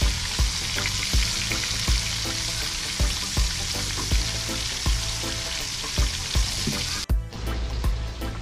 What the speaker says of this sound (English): So while I'm frying it again,